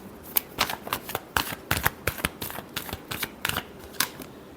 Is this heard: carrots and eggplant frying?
no